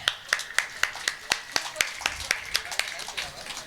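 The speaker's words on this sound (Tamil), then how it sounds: "கைதட்டுங்க." Rhythmic unison clapping from an audience at a stage drama performance, about fifteen sharp, evenly spaced claps keeping a steady beat, fairly close and moderately loud.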